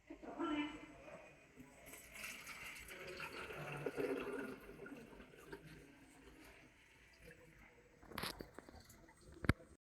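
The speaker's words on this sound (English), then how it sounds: "Fill with purified water." Purified water poured into the printhead circulation water tank of an ST C360 printer, with soft splashing and gurgling that comes in uneven bursts, quiet and close.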